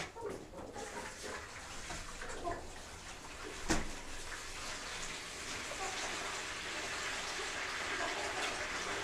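Fresh water is poured from a watering can into a chicken water trough, a steady splashing and trickling stream that continues throughout, quite faint, with one brief sharp knock partway through.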